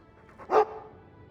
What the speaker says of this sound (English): He's a sweet dog, Hawke.